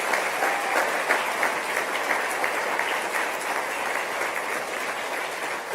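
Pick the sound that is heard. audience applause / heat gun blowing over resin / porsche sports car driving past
audience applause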